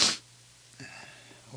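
A single sharp sneeze at the very start, loud and close, followed by faint breathing and quiet workshop noise during steel work on a cooling tower build.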